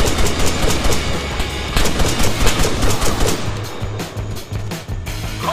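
Loud, rapid bursts of automatic gunfire fill the scene during an armed truck patrol in the military shooter Arma 3, with sharp repeated cracks over a low rumbling bed and no speech.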